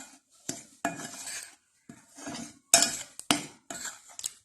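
Sugar being mixed into Ghanaian puff-puff (bofrot) batter in a bowl, heard as a close series of scraping, clattering stirs in uneven bursts with brief pauses between them, and no voices.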